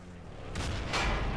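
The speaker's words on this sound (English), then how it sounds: "Double artillery on the East Mine entrance." Artillery shells land in Battlefield 2 Conquest, two broad booming blasts about half a second apart, each rolling into a rumbling tail. They sit loud and fairly close, with no voices over them.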